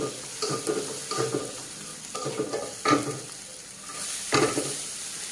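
Vegetables frying with turmeric powder, salt and cabbage while making vegetable rolls, a steady close sizzle broken by several louder bursts of stirring and scraping, with no talk.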